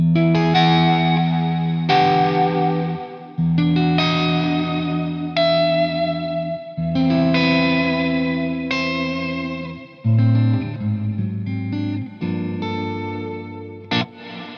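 An electric guitar through a Strymon Big Sky reverb pedal rings out washed in heavy reverb and modulation, chords sustaining and blending into a lush ambient wash, with no talking.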